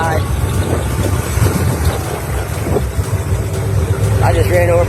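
The engine of a 1964 Ford Galaxie classic car runs with a steady low rumble, close and continuous as it drives, while a person talks over it.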